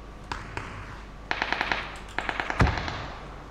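Gunfire between teams in a shooting video game, with bursts of rapid automatic shots and a single heavier blast, heard moderately close without talk.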